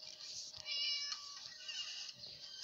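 A cat in the video game Free the Cat meows several times in a row, clear and close, with short pauses between the cries.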